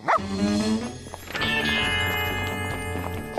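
A cartoon dog gives a quick yip, then a sustained whining bark rides over a bright, layered animated-series music score.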